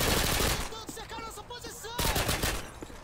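Gunfire in Call of Duty Modern Warfare 2 during a bomb-defusal mission: loud bursts of automatic fire crackle close by, with game voices and effects mixed in.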